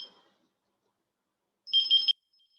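A phone ringing during a computer class, a short electronic ring burst with pulsing high tones, preceded by a faint trace of the same tone and otherwise quiet.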